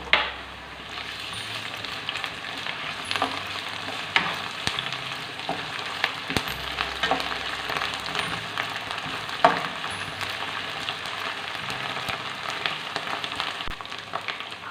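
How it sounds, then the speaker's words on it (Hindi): Onion and garlic ginger paste sizzle and fry steadily in a pan, with occasional stirring clicks and scrapes over the constant crackle, no voices present. "इसमें अब मैं डाल रही हूँ लहसुन अदरक का पेस्ट,"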